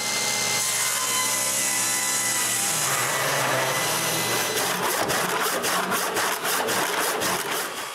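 A piece of maple is cut on a saw, a loud continuous mechanical hum shifting into a rougher, rhythmic rasping as the blade works through the wood, with no talking.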